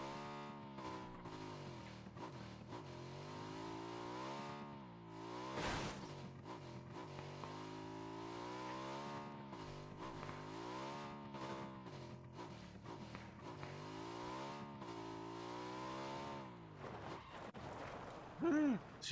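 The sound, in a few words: sidecar motorcycle engine revving in the mountains, video game PUBG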